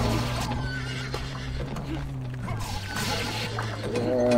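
Horse neighing and hoofbeats in the online action game Rakion, a whinny over clip-clop and busy game noise, with a rising call near the end.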